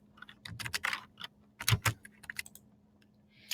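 Short taps of typing on a computer keyboard as AutoCAD command shortcuts are entered, a quick cluster of clicks followed by a few scattered keystrokes, close and fairly quiet.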